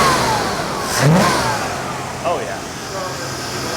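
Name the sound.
1993 Chevy Caprice engine revving with a little gas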